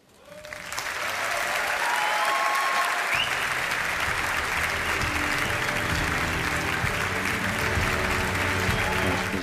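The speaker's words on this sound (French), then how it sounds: "Les applaudissements de ses coéquipières et puis bien sûr de ses adversaires qui ont fait le déplacement" Teammates and opponents applaud at the women's Ballon d'Or ceremony as a Barça player wins, loud sustained hall applause swelling in quickly and holding steady with crowd murmur.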